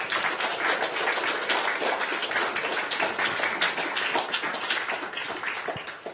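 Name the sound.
audience applause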